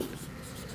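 Marker or chalk writing on a classroom board during a fourth-grade multiplication lesson, a brief steady scratchy stroke heard up close with no talk over it.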